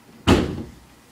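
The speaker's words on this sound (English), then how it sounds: "dang, people slamming doors" A single door slams shut nearby with a sharp, heavy bang that decays quickly into a short rumble.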